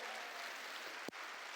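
A church congregation applauding during a sermon, a faint, distant, even wash of clapping with a single sharp knock near the end.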